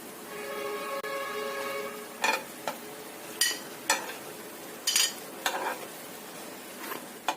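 Cheese snack being lifted from a hot grilling pan, a low continuous sizzle with a hum, followed by several sharp metallic clinks and scrapes of a utensil against the pan, close by and without talk.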